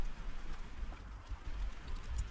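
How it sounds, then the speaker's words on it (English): Steady rain falling outdoors around a blackbird, a soft continuous patter and hiss with no voices, fairly faint throughout. "As the rain intensifies, the blackbird's feathers become saturated."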